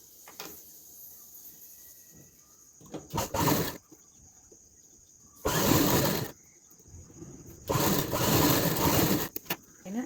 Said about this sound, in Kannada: ಅಲ್ಲಿಂದ ಸ್ಟ್ರೈಟಾಗಿ ಇಲ್ಲಿಗೆ ನಮ್ಮ ಸ್ಟಿಚ್ ಬರಬೇಕು ಈ ರೀತಿ ಸ್ಟಿಚ್ ಹಾಕಿ